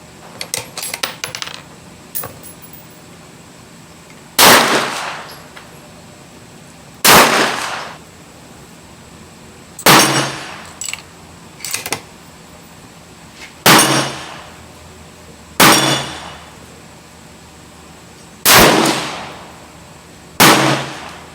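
A Savage Axis XP rifle fitted with a scope fires seven loud, sharp shots spaced a few seconds apart, preceded by some light mechanical clicks.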